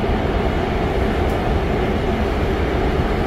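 Steady, loud rumble and rattle of a subway train in motion, heard from inside the car as a continuous low drone with no voices.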